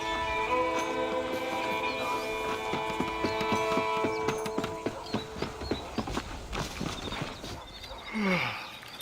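Horse hooves clip-clopping in Red Dead Redemption, a steady rhythmic gallop of close, sharp strikes over a tonal music bed, with a brief whinny-like sweep near the end.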